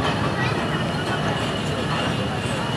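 A train's steady, loud rumble fills the scene as it rolls away from the station on its journey to Karachi, a constant dense roar with no breaks.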